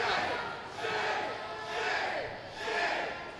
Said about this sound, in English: You can hear the crowd getting more and more worked up.